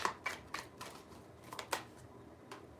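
A deck of tarot cards is shuffled in several short, sharp riffles close by, with brief pauses between bursts and no voices.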